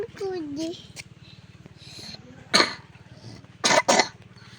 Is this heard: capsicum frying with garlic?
no